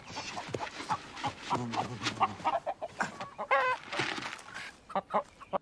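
Several chickens cluck and cackle nearby in short, uneven bursts, with a few sharper squawks rising above the chatter.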